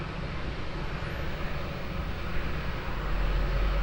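An airplane on runway 20 at Lisbon Airport gives off a steady broadband roar with a low rumble that swells toward the end. The sound is moderately loud and distant-sounding, and no one speaks.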